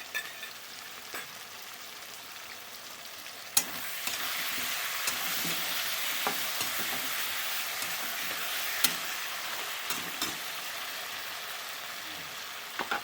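Chicken sizzling and being stirred with green chillies in a frying pan, a steady broadband hiss with occasional sharp clicks and scrapes, close and continuous, no talking.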